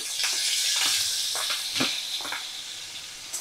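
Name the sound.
shrimp frying in a pan over medium flame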